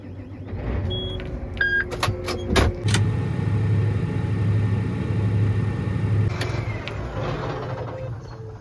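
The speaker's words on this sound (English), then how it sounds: "I'm gonna start the tractor." A tractor cranks and starts beside a combine during a wet soybean harvest: a few sharp mechanical clicks and bangs, then a steady engine rumble that carries on.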